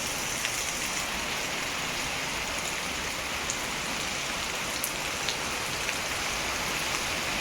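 Steady rain falls outdoors in a village, a continuous close hiss of drops on surfaces with faint scattered patters, unbroken for the whole stretch and with no voices.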